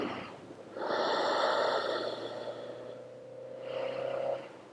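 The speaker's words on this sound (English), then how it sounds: "Take a couple deep breaths in it." Deep, slow breaths taken during a barefoot standing balance exercise: one long audible inhale-exhale swell in the first half, then a second breath near the end, close and quiet with no talking.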